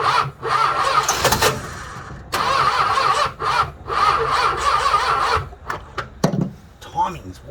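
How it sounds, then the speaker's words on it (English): A Chrysler Regal wagon with its timing far too advanced is cranked after fuel is poured down the carburettor, giving several long, loud grinding bursts broken by short pauses, then uneven sputters toward the end. "we're just going to try and just put a little down the carby and see if it'll fire up"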